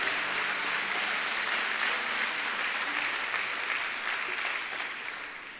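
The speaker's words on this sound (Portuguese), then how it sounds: "Se for para Ele, você pode aplaudir mais forte." A church congregation at a Lagoinha Niterói service applauds loudly, a dense and sustained wash of clapping that fills the room for several seconds, then tapers off slightly at the end.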